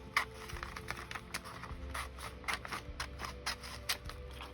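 A paper calendar page is cut up by hand, giving quiet, close, irregular snips and crisp paper rustles in an otherwise still room.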